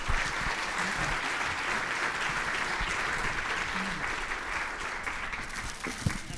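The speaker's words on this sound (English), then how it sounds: "a round of applause for our keynote" Audience applause for a keynote speaker at a Canadian low-carbon smart mobility technology conference, a steady dense roar of many hands clapping that holds evenly throughout.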